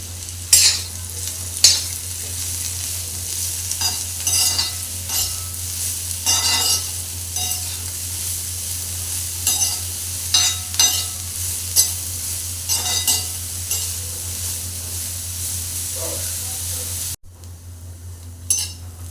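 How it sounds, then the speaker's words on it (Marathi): Chopped spiny gourd (kantoli) sautéing in a little oil in a pan, a continuous low sizzle broken by repeated scraping and stirring strokes of a spatula, close and without talk, ending with a brief quieter stretch. "तेलावरती चांगली परतून घ्यायची आहे ही काटला आपल्याला."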